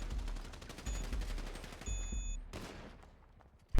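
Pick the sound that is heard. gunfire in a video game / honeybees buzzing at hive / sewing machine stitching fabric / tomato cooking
gunfire in a video game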